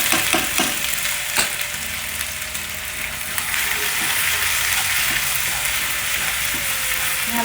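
Ginger garlic paste frying in oil in a pan with cloves, a steady loud sizzle throughout with occasional stirring clinks and scrapes.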